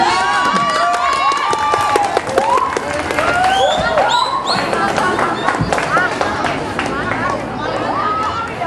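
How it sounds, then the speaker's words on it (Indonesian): A school event audience applauding and cheering for the SMP 1 group, a dense steady wash of clapping and crowd noise with voices and whistling chirps mixed in throughout. "Langsung aja deh kasih aplaus buat SMP 1."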